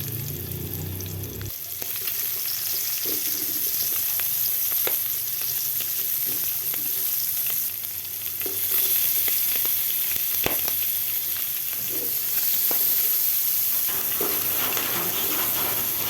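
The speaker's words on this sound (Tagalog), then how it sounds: "Dito tayo magprito." Pork fries in hot oil with a continuous close sizzle and crackle, including a few sharp pops and some stirring noises, and no one speaks.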